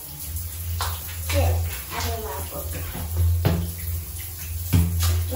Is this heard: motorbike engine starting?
no